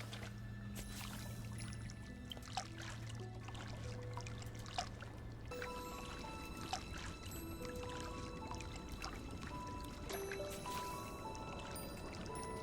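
Watering can pouring water onto flowers in Disney Dreamlight Valley, a soft continuous splashing trickle under steady game music with chiming tones, lasting throughout.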